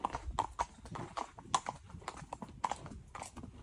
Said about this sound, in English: She packed her bags and hopped on the local horse car, or horse-drawn tram.